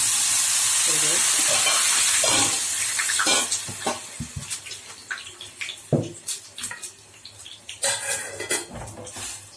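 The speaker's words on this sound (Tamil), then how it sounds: "கொஞ்சம் தண்ணி சேர்த்துக்கலாம்." Water pours steadily into a pan for a couple of seconds, then utensils clink and scrape against the metal.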